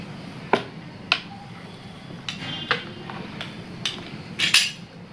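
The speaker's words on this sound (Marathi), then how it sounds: "चला लाटून घेतले. आता कापून घेऊया." A knife cuts rolled-out dough into chakolya pieces, striking the board in sharp, separate taps about every half second to second. The taps come over a low background murmur.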